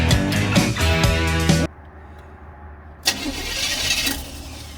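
A car engine cranks and catches, settling into a steady idle after a brief pause, with rattling and rumbling close by.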